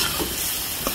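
Radish sautéing in a hot pan, a steady soft sizzle with light stirring scrapes, fairly faint and close, no voices.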